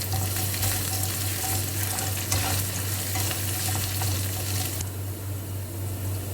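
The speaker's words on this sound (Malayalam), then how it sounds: "ചൂടായ എണ്ണയിലേക്ക് വെളുത്തുള്ളി ഇട്ട് കൊടുക്കാം." Garlic and ginger sizzling in hot coconut oil for a prawn fry roast give a continuous close crackle and hiss over a steady low hum, easing slightly toward the end.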